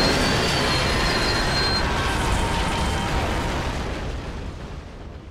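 A train is struck in a massive explosion in the video game Resistance 3, a loud, dense roaring blast with rumbling debris and metallic screeching that gradually fades out, with no voices.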